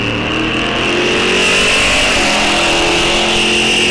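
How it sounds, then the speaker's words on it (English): A Chevy pickup roars down the drag strip lane at Rock Falls Raceway, a loud, sustained engine note that builds and holds as it accelerates past. "Chevy pickup going down the right lane."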